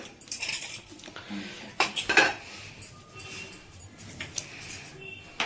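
A five-litre pressure cooker being handled in a kitchen while a vegetarian daliya khichdi is made, producing scattered close metallic clanks and knocks of pot and lid, a brief cluster in the middle and lighter taps after.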